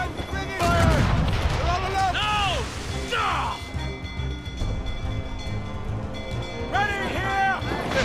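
Ship cannon fire during a naval battle in Assassin's Creed Rogue, with booming, crashing blasts under shouted crew voices, busiest near the start, then a dense rumble of battle noise.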